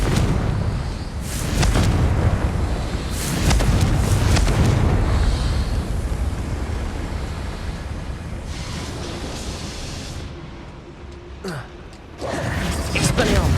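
Fire-spell explosions from a Hogwarts Legacy wizard duel, several loud broadband booming bursts in quick succession with roaring tails over continuous rumbling game ambience.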